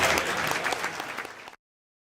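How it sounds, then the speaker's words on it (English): Spectators at an FFA stock show applaud the young exhibitors after a sheep class, a brisk burst of clapping that stops abruptly partway through, followed by silence. "Let's give them a round of applause"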